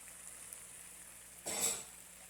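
Fresh Malabar spinach greens hit a hot pan with a brief, sudden burst of sizzling and frying that swells and then settles into a faint hiss.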